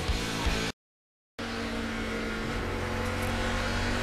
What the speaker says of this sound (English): Riding on board the leader's car, Brad Keselowski, the second driver to pace tonight's NASCAR Nationwide Series race here in Richmond.